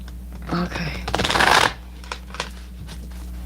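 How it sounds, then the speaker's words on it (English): A short burst of tarot cards being riffled and shuffled, close by, with a brief voice before it and quiet room tone after. "give it a few more shuffles"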